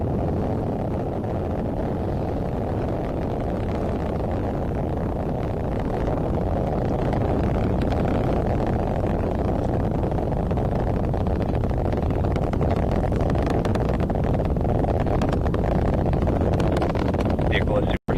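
A rocket carrying the Sentinel-6A weather satellite roars in flight, a continuous broad, distant rumble that holds steady and swells slightly, ending with a sharp cutoff.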